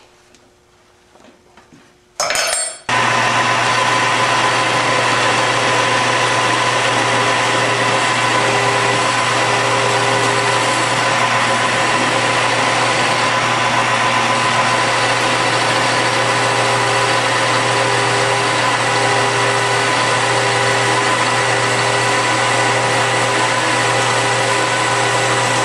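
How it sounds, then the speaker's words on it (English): A lathe starts up and runs steadily while a Super Cub three-speed transmission gear is held in the chuck by its teeth for machining, giving a loud, constant motor hum with a sharp start. "we chuck it in the lathe"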